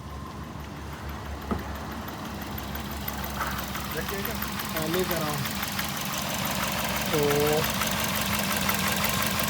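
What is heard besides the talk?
Toyota Yaris 2013 engine idling with misfire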